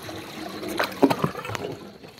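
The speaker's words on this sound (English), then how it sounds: "let's flush it now" A homemade toilet flushing with a wad of paper towel in it, water gushing and gurgling in a few bursts over roughly two seconds, nearby and moderately loud, with no talking.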